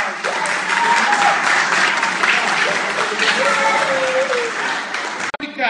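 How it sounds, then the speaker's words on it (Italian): A crowd at a prize-giving ceremony applauds a winner with sustained, dense clapping that fills the room, voices chattering and calling underneath before the clapping cuts off abruptly. "un bel applauso"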